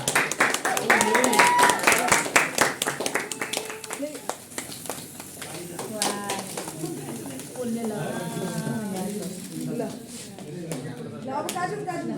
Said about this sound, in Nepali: ताली ल सबैजना सर